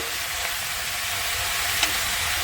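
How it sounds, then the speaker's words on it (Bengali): Spinach frying with salt and turmeric sizzles in a steady hiss while being stirred, with a couple of faint scraping clicks from the utensil, close and continuous, with no talking. "ভালো করে নাড়াচাড়া দিয়ে নেব লবণ হলুদের গুঁড়ো দিয়ে"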